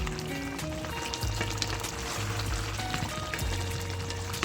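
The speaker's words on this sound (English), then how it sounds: "let it keep simmering down for the next 15 minutes" Jamaican stew chicken cooking in a pot, a steady close sizzle and bubbling simmer with faint crackles running evenly throughout.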